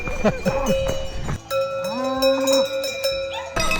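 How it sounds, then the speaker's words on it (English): Cowbells worn by cows clang and ring unevenly nearby during an ultra running race, while a cow moos loudly, a sustained bellow in the middle of the jangling. "It's actual cows ringing cowbells."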